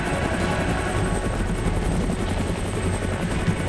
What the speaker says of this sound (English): Zabierz helikopter i uciekaj!